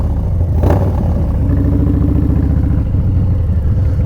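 A Harley-Davidson 131ci engine with a Two Brothers Racing Shorty Turnout exhaust idles with a low, throbbing rumble, steady and close, with a brief clatter early on.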